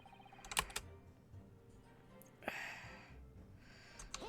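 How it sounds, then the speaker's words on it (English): Keyboard keys and a spacebar clicking during a run through an Ace Attorney game, a few sharp separate taps close to the mic with quiet gaps between them. "Enjoy the sound of my clicking spacebar."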